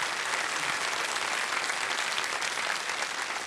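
A studio audience on the quiz show Kaun Banega Crorepati applauds in a dense, steady burst of clapping that fills the whole moment evenly and loudly.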